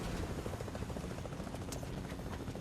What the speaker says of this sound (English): Who the fuck got in the helicopter?